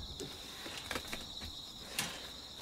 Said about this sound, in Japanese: スズムシの声聞こえる。